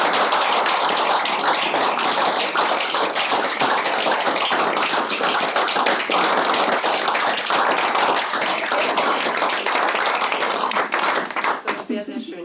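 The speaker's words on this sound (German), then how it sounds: "vielleicht für Julia nochmal einen extra Applaus" An audience claps continuously at an indoor evening talk event, a dense, loud, steady patter of many hands that fades and thins out at the very end.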